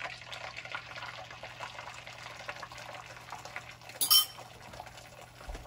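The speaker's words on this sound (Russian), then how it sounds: "И выливаю яйца." Beaten eggs poured into a pan with a spoonful of ghee, heard as a steady, soft liquid hiss lasting several seconds, with a brief clink of utensil or bowl toward the end.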